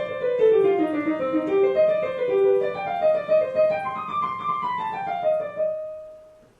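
C.P.E. Bach's Solfeggietto played as a continuous run of even 16th notes, a clear, close melodic line that rises and falls and ends on a held note that fades out, with no talking.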